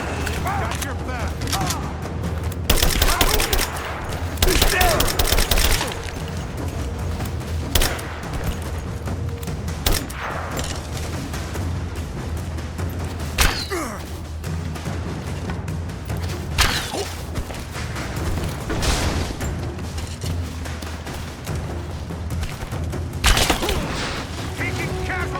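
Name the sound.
gunfire in a firefight, from the video game Rise of the Tomb Raider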